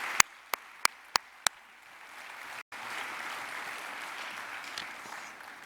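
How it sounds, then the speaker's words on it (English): Audience applause at a national scholarship award ceremony, a soft continuous wash of many hands clapping in a hall, preceded by five loud, evenly spaced single claps and broken by a brief dropout. "Give her a round of applause."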